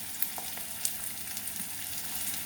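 Chopped onions and cumin frying in hot oil give a steady, close sizzle with faint crackles and small pops, with no voices.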